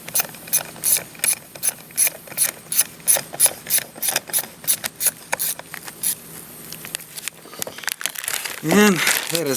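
A ratchet tightens a bolt on a Ford starter during a rebuild, with a steady series of close, crisp clicking bursts in even rhythm, then a brief clatter and a short squeaky sound near the end.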